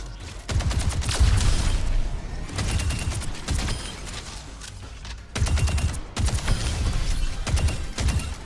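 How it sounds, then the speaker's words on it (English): Dense automatic gunfire from an Overwatch 2 weapon skin, loud and close, firing in sustained bursts with short breaks between volleys. "It only had a different sound effects and skin model."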